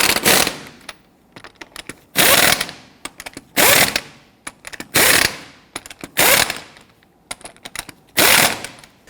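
An impact tool snugs down wheel lug nuts on a Hummer H3 in a crisscross pattern, giving six loud hammering rattling bursts of about a second each with brief gaps and light clicks between, close and alone.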